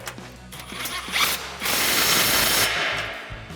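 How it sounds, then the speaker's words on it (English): Close, loud ratchet clicks in quick bursts tighten an over-axle exhaust clamp on a RAM 2500 with an MBRP Armor Plus single exhaust, followed by a sustained grinding rasp. "We'll tighten down our over axle clamp."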